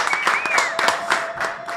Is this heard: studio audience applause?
yes